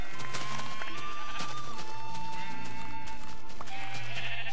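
Sheep bleating in the Minecraft video game, dyed-wool sheep penned close by: several loud bleats overlapping in quick succession, with steady game background sounds underneath and no talking.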